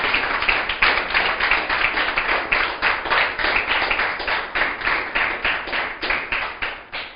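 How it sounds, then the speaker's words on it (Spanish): A church congregation claps in unison, a dense, steady rhythm of sharp hand claps at roughly three per second, loud and close, continuing without a break and fading slightly at the end; no one speaks. "Aplauda al Señor, se va a aplaudir."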